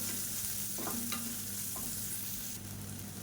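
Small shallots sautéing in a pan for a healthy breakfast dish, producing a dense steady sizzle with a few stirring scrapes and clicks, and no one talking.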